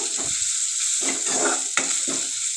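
Ginger garlic paste fries in a hot tempering for drumstick-leaf dal, giving a constant bright sizzle with a few scraping stirs, close and steady.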